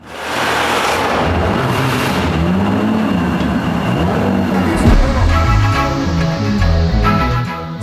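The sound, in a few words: stanced car driving and making noises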